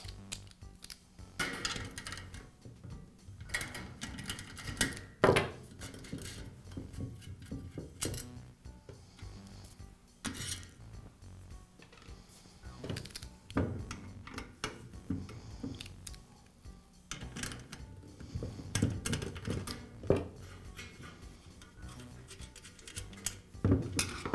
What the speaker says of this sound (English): I'll use a screwdriver to secure the screw on one side and a nut driver to remove the nut.